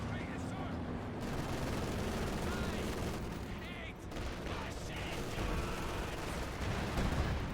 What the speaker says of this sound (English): That was a pretty close range barrage.